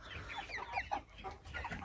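Broiler chickens suffering in extreme heat cluck and chatter, several birds overlapping in soft, irregular calls, faint and fairly distant.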